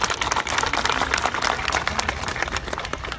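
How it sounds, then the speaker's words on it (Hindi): An audience at a Dehradun ISBT flyover inauguration claps for the engineers, a brisk patter of many hands close by that keeps up steadily for a few seconds. "मेरी इच्छा है कि आप लोग भी जरा ताली बजा करके"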